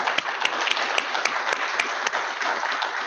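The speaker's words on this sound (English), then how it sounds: "Please join me in giving them all a round of applause" An audience at a county leadership summit claps steadily and densely for the full stretch, a crowded patter of hands with no voices over it.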